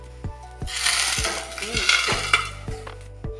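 A rice-cake pitha fries in a hot pan, giving a soft sizzling hiss broken by sharp utensil clicks and taps against the pan.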